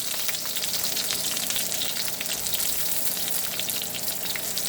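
Onions sizzle loudly in a hot pan, a constant crackling hiss with small pops, close up and uninterrupted.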